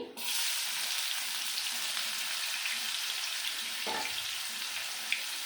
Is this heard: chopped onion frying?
yes